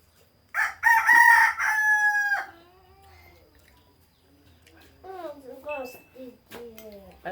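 A rooster crows loudly nearby in one long drawn-out call at a family breakfast, followed by people talking.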